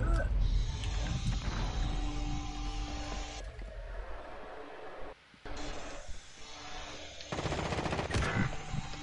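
Rapid automatic gunfire in a Call of Duty online match, dense bursts of shots running almost continuously with brief pauses, loud and close, with some muffled game noise behind.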